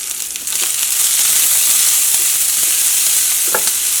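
Broccoli and corn are stirred in a pan while cooking a breakfast dish, with a steady sizzling fry and soft scraping stirs running throughout, close and fairly loud.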